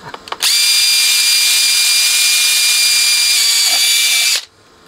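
A power drill boring a hole in the metal frame of an HH Electronic S500-D power amplifier, one loud, close, steady high whine that holds for about four seconds and then stops.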